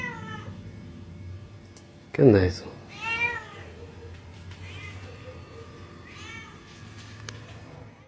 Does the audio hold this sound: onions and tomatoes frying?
no